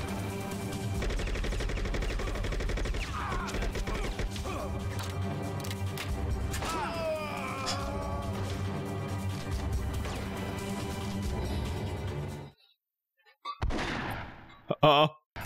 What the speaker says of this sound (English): The grenade!